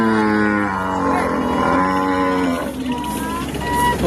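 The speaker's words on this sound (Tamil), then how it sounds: "வண்டி மாடு, சரியான வண்டி மாடு." Draught bullock cattle at the Manapparai cattle market give long, loud, close moos that carry over a continuous crowded background.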